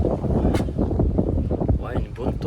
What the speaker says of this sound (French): Bon là le vent il commence à me saouler.